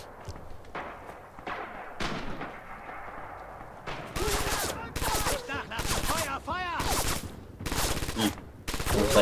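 Gunfire in the WWII shooter Red Orchestra 2: Heroes of Stalingrad, with faint muffled shots and movement early on, then loud repeated rifle and machine-gun bursts crackling close by, while a voice talks partway through.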